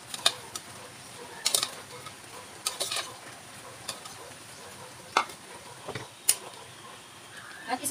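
Pansit bato being stirred as it fries in a pan at home, with a steady faint sizzle under intermittent scraping and clinking of a utensil against the pan.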